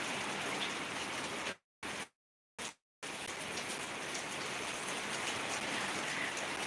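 Light rain falling steadily, a soft continuous hiss of drops on surfaces that cuts out briefly twice, then resumes at the same even level.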